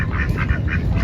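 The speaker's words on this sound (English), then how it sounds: "the 4 little ducklings are back" Several ducks quack in a loose repeating rhythm at moderate distance outdoors while birds are being fed, with no one speaking and a low background rumble underneath.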